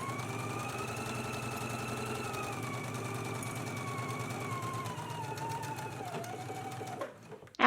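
A sewing machine runs steadily while stitching the side seams of a dress, its rapid needle rhythm holding an even, unbroken whir before stopping abruptly near the end.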